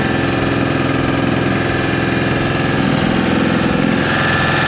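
A boat's engine runs steadily on Chilika Lake, a loud, close, continuous mechanical drone with a rapid, even throb and no voices over it.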